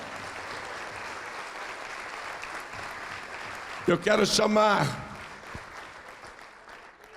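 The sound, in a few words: church congregation applauding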